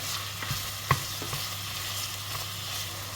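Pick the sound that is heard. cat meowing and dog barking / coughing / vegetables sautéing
vegetables sautéing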